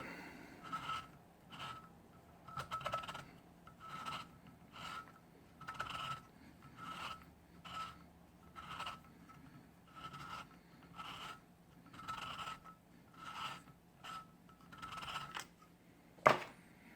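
A hand-turned Neway valve seat cutter scrapes a cylinder head's valve seat in a steady rhythm of about a dozen rasping strokes, each a second or so long with short pauses between, close and fairly quiet.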